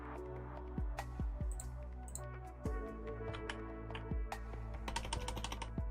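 Computer keyboard keys pressed one after another to check they still work, a run of close, crisp clicks with irregular pauses and a few quicker bursts, alone with no talk.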